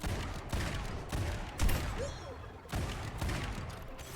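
Rapid hero weapon fire in Overwatch, quiet but steady, with sharp shots clustered in bursts over a muffled game background.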